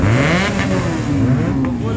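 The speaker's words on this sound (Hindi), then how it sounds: "यहाँ पे रेव चालू हो चुका है" Loud engines of a Kawasaki Ninja H2 and ZX-6R revving with rising and falling pitch, several bikes close by at a college entrance, continuous over the whole short stretch, some voices faintly underneath.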